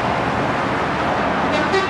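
A Toyota Hilux Surf with a cylinder head fault is moved off by another driver at a roadside in Mersin, Turkey, its engine a steady low rumble amid traffic noise, with a brief horn-like tone near the end.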